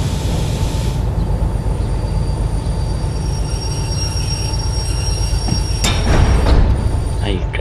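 A DH4 locomotive brakes hard in the Derail Valley video game, its wheels squealing with a steady high screech over heavy rolling rumble, loud and close, with a sharper burst near the end.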